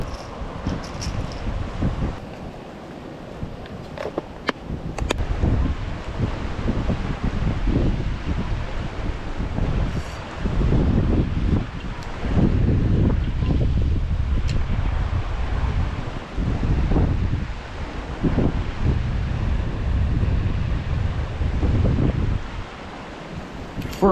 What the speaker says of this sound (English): The wind has also picked up an insane amount